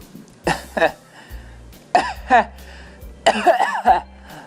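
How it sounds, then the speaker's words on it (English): A person coughs in a few rough, harsh bursts, close and fairly loud, with short pauses between them and a low hum underneath. "That sounded like a real cough."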